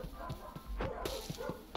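Dogs bark in a survival video game, a handful of short barks and yips scattered over a couple of seconds at moderate distance.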